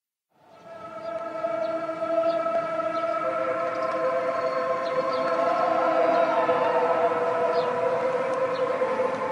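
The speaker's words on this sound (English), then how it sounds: "Waking up in the North Korean capital of Pyongyang sounds like this." Morning in Pyongyang, North Korea: a loud, sustained siren-like synth drone with steady harmonic tones rises at the start and holds for several seconds, filling the city air without speech.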